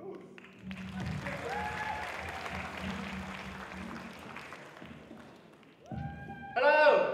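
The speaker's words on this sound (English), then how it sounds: "Let's give him a big round of applause." A stand-up comedy show audience claps and cheers for a comedian, a steady wash of applause filling most of the stretch before it thins and a voice begins talking near the end.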